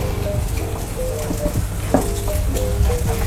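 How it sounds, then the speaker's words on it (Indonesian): Nasi goreng mawut stir-frying at a street food stall, a steady sizzle with scattered scraping and clanking of a wok and spatula, loud and close, with some background chatter. "Lagi menumis di belakang aku."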